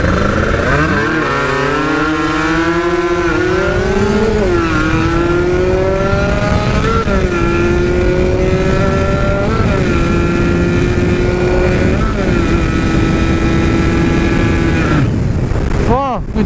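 A Kawasaki Ninja RR two-stroke motorcycle engine revs loud and close, rising and falling repeatedly in sharp, buzzing pulls with no talk over it.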